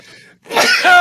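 A sneeze brought on by pollen allergies: a sudden, loud, breathy nasal burst after a short quiet intake, close to the microphone and not covered by talk.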